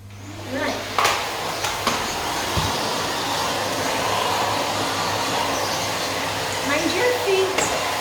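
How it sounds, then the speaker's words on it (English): A vacuum cleaner hoovers a floor at home, with a steady loud drone running throughout and a few clunks as it is pushed around, while a person talks over it. "So I'm just going to get hoovering."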